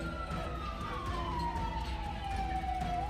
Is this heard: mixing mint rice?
no